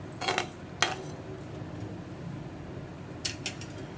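Metal utensils clink and scrape against a pot of boiling curry: a few sharp knocks near the start, then quieter scraping and two more clinks toward the end.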